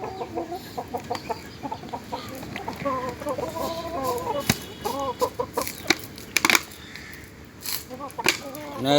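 Tiger roosters cluck in quick repeated bursts nearby, the calls coming in uneven clusters with short pauses and a few louder squawks.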